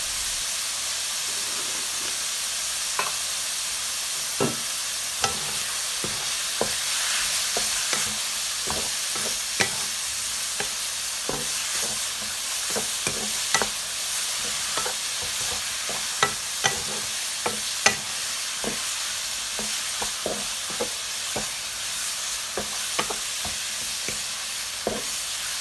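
Minced pork with holy basil, coconut sugar and fish sauce stir-fried in a pan, a steady broad sizzle with frequent sharp clacks of a utensil against the pan throughout, close and continuous.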